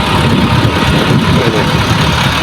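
Several tractor engines run steadily at a riverside park construction site in winter, a loud continuous low rumble with no break across the whole stretch.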